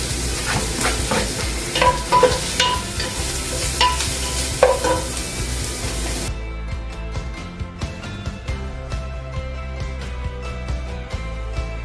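Onions and garlic frying in a pan for a chicken feet recipe, a steady loud sizzle close up, with a spatula scraping and stirring through it and the sizzle softening partway.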